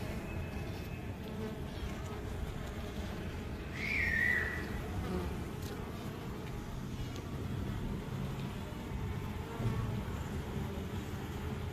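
Honeybees buzzing in an open hive under inspection, a low steady hum throughout with a brief louder buzz of one bee passing close, over faint background noise.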